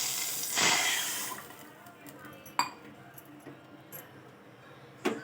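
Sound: pouring water from a glass

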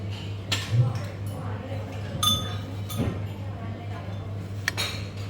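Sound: serving utensils clinking while scooping watermelon at hotel breakfast buffet

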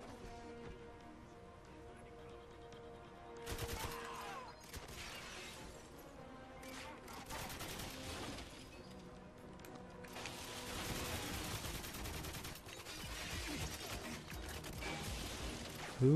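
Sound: gunfire in the video game 007 GoldenEye Reloaded

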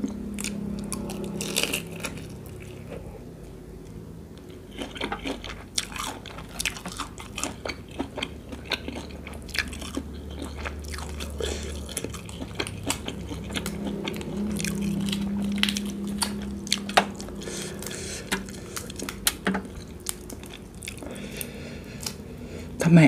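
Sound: eating bucket-cooked shrimp, ASMR biting and chewing

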